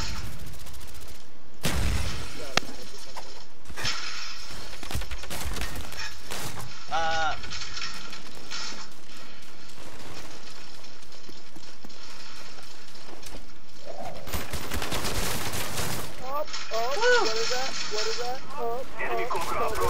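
Rapid gunfire in Call of Duty Black Ops, dense bursts of shots and impacts in a frantic online match, with a player talking excitedly over the action.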